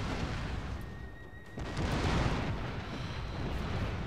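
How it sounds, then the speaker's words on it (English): Battle noise from Shogun 2: Total War, a dense, rumbling wash of gunfire and booms that swells steadily and stays loud throughout, with no talking. "Gun battle!"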